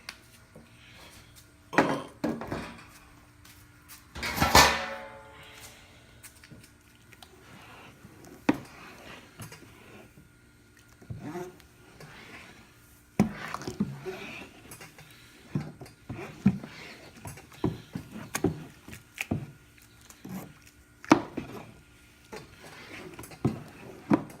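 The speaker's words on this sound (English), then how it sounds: "So I will give it a nice little stir." Scattered clinks, scrapes and knocks sound as all-grain IPA mash is stirred in a mash tun during a homebrew session, with one sharper clatter early on and faint intermittent taps afterward.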